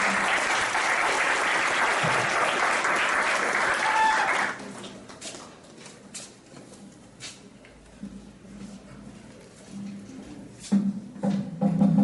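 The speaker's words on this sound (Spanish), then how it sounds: "Recibamos un aplauso al doctor Eduardo Carrillo." Audience applause at a geopolitics conference welcoming a speaker, loud and dense broadband clapping for about four seconds, then fading to scattered claps and murmurs with faint voices.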